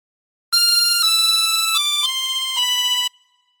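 A chromatic harmonica plays a phrase of the Star Spangled Banner as a smooth run of about five held notes stepping downward, bright and close, solo without any voice.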